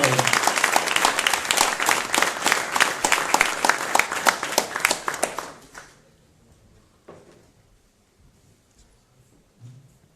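An audience at a tech talk applauds a speaker from FBK, steady dense clapping for about six seconds before fading into a quiet room with a few stray sounds.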